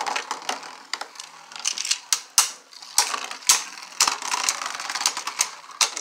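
Fake Beyblade Burst Wild Wyvern spinning tops launched into a stadium and battling, giving a busy stream of rapid clicks, scrapes and sharp clashing hits, with no voices.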